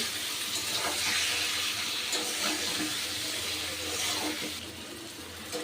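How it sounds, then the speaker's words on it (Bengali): Spice paste frying with potatoes in a pan gives off a steady, fairly loud sizzling hiss, with a few faint scrapes and no talking. "এবার আমি পুরো মশলাটাকে আলুর সাথে ভালো করে কষিয়ে নিচ্ছি।"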